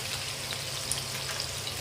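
Squash and a little sweet potato sizzle in a hot pan, a steady close frying hiss with faint crackles, no talking.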